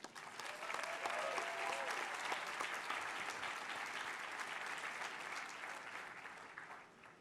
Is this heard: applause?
yes